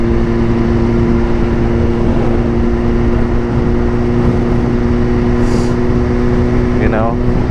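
Motorcycle engine hum and steady wind rush on a ride on a nice day, a constant droning rumble carrying through the whole stretch, with someone talking over it.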